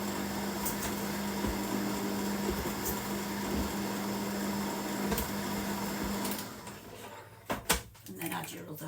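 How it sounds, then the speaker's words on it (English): An electric mixer runs steadily on slow speed through carrot cake batter, a constant whirring hum that stops abruptly near the end and gives way to clunks. "Mix that on a slow speed."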